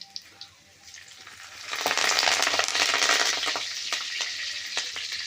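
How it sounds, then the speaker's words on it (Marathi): Curry leaves tossed into hot oil with browned garlic for a tempering, bursting into a loud, crackling sizzle that swells after a quiet start and keeps spitting steadily, close up and with no voices. "हा कढीपत्ता टाकलेला आहे आणि लगेच तेल खूप जोरात उठतं"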